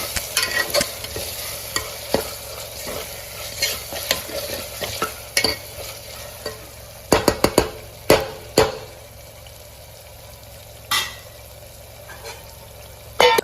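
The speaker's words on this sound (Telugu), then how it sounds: "తర్వాత టమాటాలు కూడా వేసి బాగా వేయించుకోవాలి" Tomatoes frying for mutton curry, a steady close sizzle in a pan broken by irregular scraping stirs and a few sharp clacks of a spoon against the metal.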